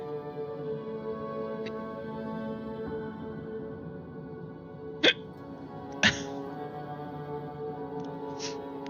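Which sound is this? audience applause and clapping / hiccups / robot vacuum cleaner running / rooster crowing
hiccups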